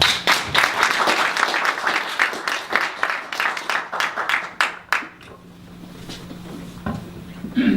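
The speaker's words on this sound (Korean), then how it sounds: "박수로 맞아주시기 바랍니다." An audience at a business presentation in Busan applauds to welcome a company chairman to the stage, with dense clapping that thins out and fades into room quiet after about five seconds, followed by a few scattered claps.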